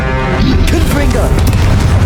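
In a Hogwarts Legacy duel, a Confringo fire spell detonates with a heavy, loud boom and rumbling burst amid ongoing battle noise, while a character's voice calls out over the blast.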